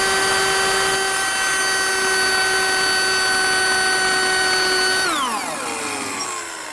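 A power drill whines steadily with a high tonal pitch while boring into a metal drag block, then winds down as the motor slows near the end, loud and close, with no talk.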